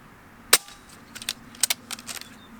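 A modded Umarex Notos air rifle fires a pellet with one sharp, loud crack near the start, followed by a few softer clicks and mechanical taps.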